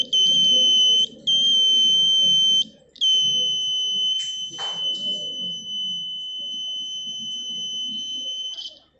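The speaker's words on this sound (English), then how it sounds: "the bulb glow, the buzzer makes sound" A buzzer in a school rain detector project gives a loud, piercing electronic tone that sounds three times, with brief gaps between, over a low murmur of background voices.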